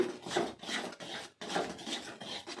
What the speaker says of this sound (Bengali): নারকেলের যে পেস্টটা ছিল ওটা গুড় দিয়ে আমরা হচ্ছে ফুটিয়ে নেবো তো, নাকি এটা মাখা মাখা করে নেবো